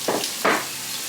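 Fish curry masala with coriander and cumin powder hisses in hot oil, two short bursts of sizzling swelling over a steady frying crackle.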